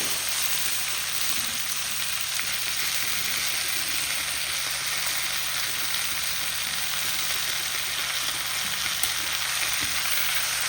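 Oil frying in a pan with squeezed, water-soaked salted gooseberry, a steady close sizzle and crackle running unbroken with no talk.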